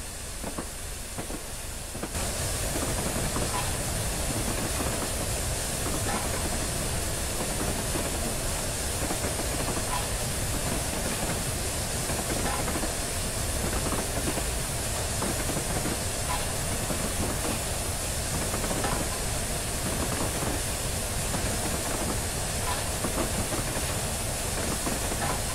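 Flying Scotsman steam locomotive in a train simulator game on the Scottish West Line, a steady loud hiss of steam with rumbling wheels and faint rhythmic clickety-clack running continuously, starting abruptly after a short quieter moment.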